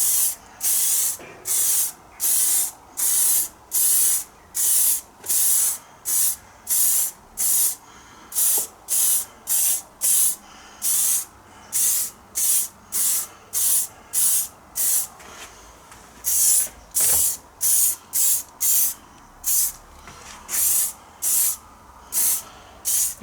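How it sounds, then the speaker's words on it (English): A rattle can of Halford's clear lacquer sprays onto body-coloured car door mirrors in many short, evenly spaced hissing bursts, loud and close, with brief pauses between passes. "This is just standard Halford's clear lacquer."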